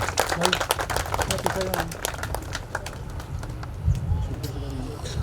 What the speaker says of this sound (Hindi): तालियों से स्वागत कीजिए आयशा जी